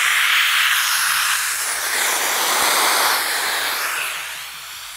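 Compressed air bleeding off from a PipePatch packer during drain pipe repair, a steady loud broadband hiss that holds for several seconds and eases slightly toward the end, with no voices.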